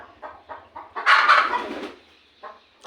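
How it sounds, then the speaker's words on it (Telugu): A farm hen gives a run of short, close clucks, then a louder, drawn-out agitated squawk, followed by a pause and one more brief cluck. "చూడండి ఇది 5వ కోడి అండి."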